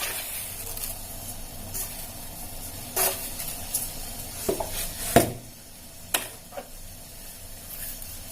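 Ginger and tea leaves are added to a pan of tea cooking on the stove, with a soft continuous simmering hiss. A few light clinks and taps come through, along with quiet stirring noises.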